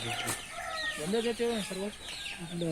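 Several chickens, including chicks, Giriraja and native country chickens, cluck and chatter close by on a farm, a busy run of short, pitched calls overlapping one another.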